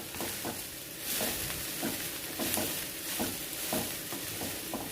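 Puffed rice being stirred through a spice tempering in a kadai, giving repeated scraping, rustling strokes with a faint sizzle underneath at a steady, close rhythm.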